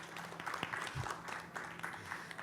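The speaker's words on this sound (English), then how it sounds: "please do clap for yourselves too." Audience applause at a panel discussion during a business awards event, a steady patter of clapping from a hall crowd, moderately distant and fairly quiet, continuing throughout without speech.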